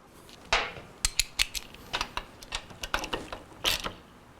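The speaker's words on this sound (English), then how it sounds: "Our clamp is not tight, so we need to go ahead and tighten that up." A wrench ratchets to tighten a clamp on the rear brake hose of a 2005 Suzuki GSX-R750 motorcycle, a close series of sharp metallic clicks in an irregular rhythm with no talking.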